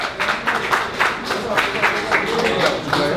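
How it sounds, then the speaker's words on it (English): An audience claps to welcome a music executive guest onto a stage, a burst of moderately loud applause with scattered individual claps rising and falling throughout. "Everybody clap it up and welcome Aaron Reid to the stage right now."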